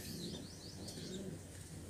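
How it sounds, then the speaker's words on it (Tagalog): Pigeons cooing softly in a loft, low repeated coos with faint chirps and a brief flutter of wings, quiet and close, with no talking. "Ito mga kalapatids."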